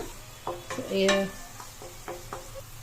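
Tomatoes frying in oil in a pan for an egg dish, with a soft sizzle under a few scraping, clinking stirs of a utensil against the pan.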